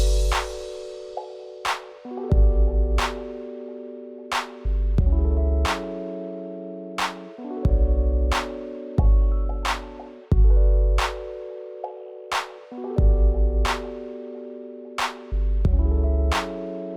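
A pop beat verse with punchy kick, synth chords and a crash washed in heavy reverb, looping in a steady, loud pattern.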